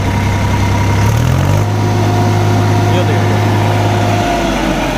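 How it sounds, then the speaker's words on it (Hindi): A tractor engine idles with a steady low throb that shifts pitch briefly as it settles, loud and close, with a voice speaking over it. "एक बार पहले तो ट्रैक्टर स्टार्ट करके देखेंगे, इसकी आवाज़ सुन लो एक बार आप।"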